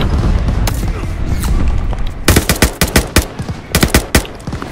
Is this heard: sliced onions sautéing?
no